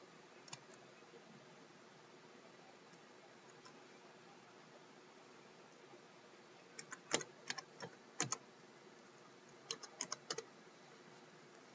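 Fingers tap a password onto a smartphone screen: soft, sparse clicks in small clusters over faint background hiss, mostly quiet at first and then a denser run of taps later on.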